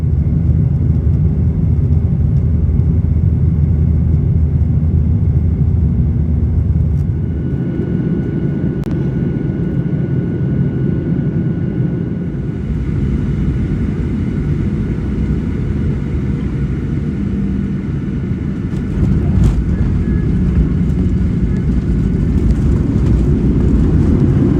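An airliner takes off from Soekarno-Hatta airport bound for Pontianak, a loud continuous cabin roar of jet engines and rumble that shifts in tone partway through as it climbs, with no talk.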